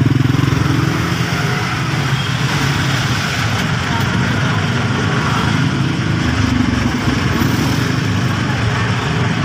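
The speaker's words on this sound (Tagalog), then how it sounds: "yun ang motor eh" Motorcycle engines run steadily in heavy traffic on a road in Tullahan, Valenzuela, a continuous low drone mixed with other vehicles, with people talking over it throughout.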